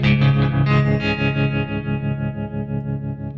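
Electric guitar with gold foil pickups, bright and jangly attack, several strummed notes ringing out and slowly decaying, with a slight chorus-like shimmer and distortion.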